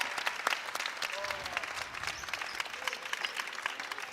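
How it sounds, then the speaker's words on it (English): Scattered clapping and applause ring out in a high school gym as seniors are honored at a Westwood vs Ashland boys varsity basketball game, with distinct hand claps, crowd murmur and faint voices underneath. "so claps all around to them"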